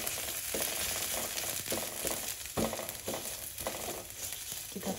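Squeezed coconut pulp frying in a pan, a dense sizzling hiss with periodic scraping bursts as it is stirred, close and steady.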